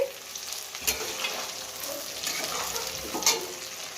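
Onions fry in hot oil in a wok just after pakoras were cooked in it, giving a steady crackling sizzle with a couple of sharper spatters and light stirring, heard close up with no voices.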